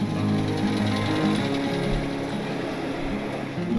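Road construction machinery works beside a road near Pasuruan, East Java, passed during a motorbike tour, giving a loud, steady, jackhammer-like clatter and rumble that continues without a break.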